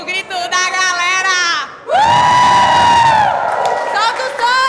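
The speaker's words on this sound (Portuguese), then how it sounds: "eu quero ver o grito da galera" A crowd at a FitDance class in a Smart Fit gym cheers and shouts loudly at close range, with sustained whoops and yells in two long bursts separated by a brief dip.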